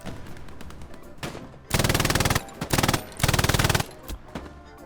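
A German machine gun in the shooter game Hell Let Loose fires three loud, rapid bursts, the middle one shortest, with quieter game sounds between them.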